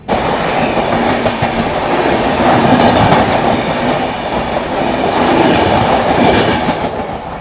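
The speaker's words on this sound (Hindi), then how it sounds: "ये देखो स्लो डाउन हो गई है ट्रेन" An AC Duronto Express train rolling slowly toward Bhopal Junction, with a steady rumble and rhythmic clickety-clack of wheels over rail joints, heard loud and close from on board.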